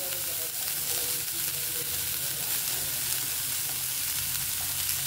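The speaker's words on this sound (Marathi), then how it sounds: "फास्ट गॅसवरतीच भाज्या परतायच्यात आपल्याला। कांदा परतून झाला, आपण आता कोबी टाकूया।" Shredded cabbage and onion stir-frying in a pan over a high flame for veg spring roll filling, a steady, loud sizzle with faint stirring scrapes and no speech.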